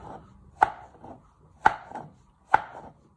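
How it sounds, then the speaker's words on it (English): A knife strikes a cutting board three times in slow, even rhythm while chopping a mushroom into small pieces, each crisp, close thud standing alone in a quiet room. "You first chop it in half and then do little pieces of slices"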